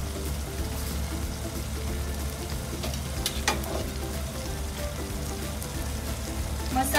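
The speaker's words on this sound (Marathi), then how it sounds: "मॅरिनेट केलेली कोळंबी टाकते." Marinated prawns fry and are stirred in a hot pan, a constant close sizzle broken by sharp scraping and clattering from the stirring, with no talk.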